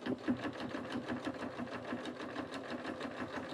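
A sewing machine stitches the final seam of a dish mat being turned into a basket, giving a fast, even, rhythmic mechanical whirring and tapping, close and steady for the whole stretch, with no speech.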